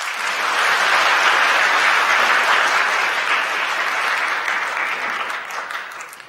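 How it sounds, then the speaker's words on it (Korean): A church congregation applauds in welcome during a Sunday service, a dense, even wash of many hands clapping that swells quickly, holds steady and loud for several seconds, then tapers off at the end. "여러분들 환영의 박수 부탁드립니다"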